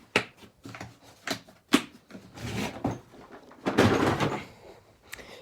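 A mobile mechanic's tool chest drawer slides open with rattling metal tools inside, a run of close clacks and a longer rolling scrape.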